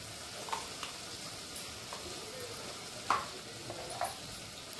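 Cumin seeds dropped into hot oil for a tempering while cooking a val (field bean) khichdi give a soft, steady sizzle with a few sharper crackles and a light stir near the end.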